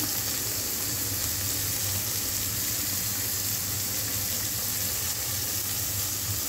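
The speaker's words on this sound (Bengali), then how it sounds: "মাছগুলো আমি একবারে সুন্দর করে ভেজে তোমাদের সামনে ফিরে আসছি" Fish frying in a pan, a steady, dense sizzle that holds evenly throughout with no talking.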